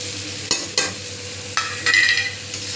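Spices sauté in a hot pan with a soft sizzle, broken by a few sharp scraping stirs of a spoon, close and brief.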